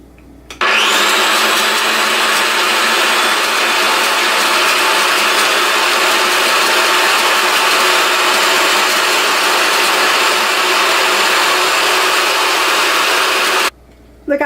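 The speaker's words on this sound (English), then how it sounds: "I'm going to put the zucchini in the Spiralizer" An electric spiralizer spins up to a loud, steady motor whine while cutting zucchini into noodles, running continuously for about thirteen seconds before cutting off abruptly, close and alone.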